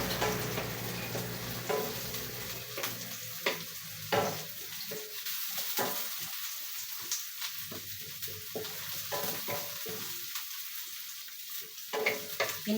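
Sliced onion sizzles and fries in a pan while a utensil stirs and scrapes at intervals, a soft steady crackle with occasional sharper knocks, during chicken adobo cooking.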